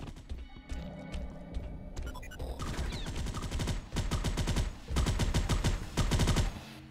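Sustained turret gunfire in a video game, rapid bursts that build in density and loudness, with sharp repeated reports continuing steadily toward the end.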